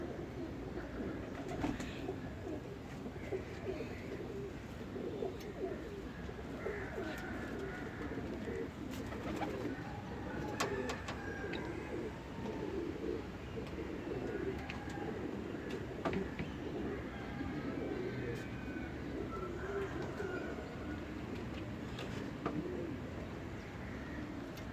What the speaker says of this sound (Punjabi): ਸਾਡਾ 3 ਵਾਲੇ ਕੱਪ ਦੇ ਵਿੱਚ ਕਬੂਤਰ ਹੈਗਾ